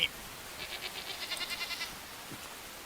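A goat in the video game Enshrouded bleats in a quavering, pulsing call lasting over a second, fairly close and clear over a quiet hum, then fades to near silence.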